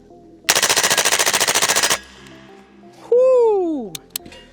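A suppressed rifle fires a rapid burst of about fifteen evenly spaced shots, loud and close, followed by a ringing metallic tone from a hit target fading away.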